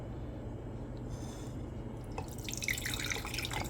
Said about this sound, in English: And we're gonna drain the water off.